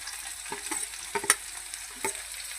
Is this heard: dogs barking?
no